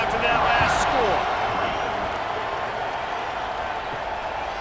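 Broad, steady crowd roar from a packed stadium in an American college football video game, Rutgers Scarlet Knights against Washington, filling the whole stretch at an even level after a score, with a brief sharper burst near the start.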